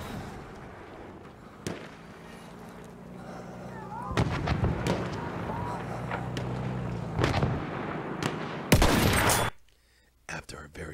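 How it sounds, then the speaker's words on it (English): Battlefield 1 combat on PS4: a heavy grenade blast followed by scattered gunshots and sharp bangs, loud and close, with voices calling out under the din before it cuts to quiet. "Throwing a grenade! Watch it!"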